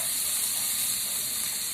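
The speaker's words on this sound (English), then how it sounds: "I'm going to start grilling the shrimp" Shrimp sizzle while grilling in a hot wok for pad thai, giving a steady, bright hiss with faint crackles that holds even for a brief moment, with no talking.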